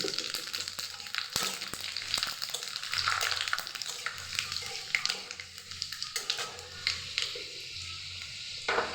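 Bay leaves and panch phoron crackle and sizzle in hot oil for khichuri, with a busy, uneven frying hiss, occasional sharp pops and some soft clatter nearby.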